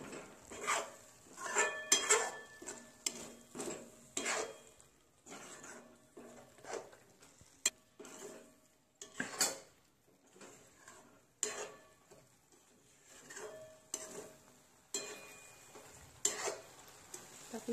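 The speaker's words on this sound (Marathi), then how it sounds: "ते सर्व सॉस आपण टाकून घेतलेले, छान पैकी मिक्स करून घेऊ." Tomato sauce stirred and mixed in a pan while cooking Manchurian, with a spoon scraping in repeated short strokes and faint sizzling between, close and moderately quiet with no talk.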